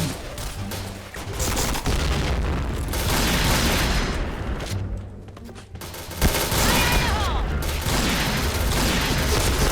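Rapid, continuous gunfire from the Point Blank video game, loud bursts of automatic fire and shots layered almost without pause, with a short lull midway and a player speaking underneath.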